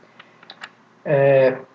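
A few light computer-keyboard keystrokes click while coding Java in Eclipse, followed by a brief voiced sound.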